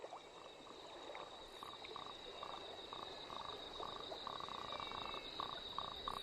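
Frogs and toads croak in a steady chorus of repeated calls in rain-flooded coastal wetland at Praia do Cassino, Brazil, over a constant high insect-like whine and a low, rumbling background.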